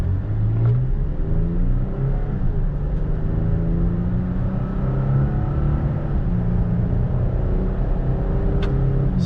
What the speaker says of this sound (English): We're gonna get onto this straightaway here and we're gonna punch it.